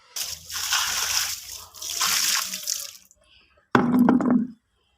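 Water pours and splashes while clothes are rinsed by hand, with two long sloshing pours, a short pause, then a brief fuller gush of water nearby.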